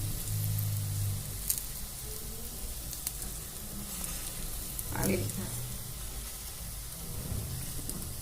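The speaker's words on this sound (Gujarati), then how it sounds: "આની અંદર તેલ નાખી દેવાનું પાછું આવી રીતનું તેલ નાખશો ને ચડી જશે ને ઉકળી જશે" Bajra flour pudla frying in oil on a pan, a steady close sizzle and crackle throughout with a brief louder spatter partway through.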